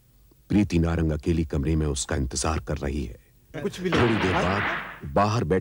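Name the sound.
gunshot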